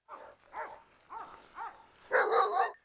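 Blue Cane Corso dogs barking close by: four deep, evenly spaced barks followed by a louder, longer burst of barking, with no talk.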